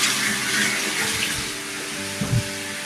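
Tap water running steadily into a bathtub while a dog is bathed, a loud continuous close gush with a couple of small splashes and bumps near the end.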